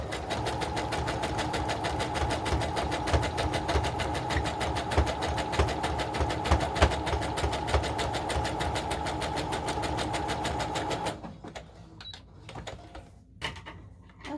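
Sewing machine zigzag stitching over gathers on a doll bodice, a fast rhythmic mechanical chatter running steadily up close before stopping, followed by a few faint handling clicks.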